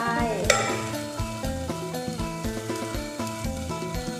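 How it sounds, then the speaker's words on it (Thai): Pork belly stir-fries with lemongrass, a continuous close sizzle with repeated stirring scrapes and one sharp clink near the start, with no voices. "เอาไปคั่วนะคะ คั่วกับตะไคร้"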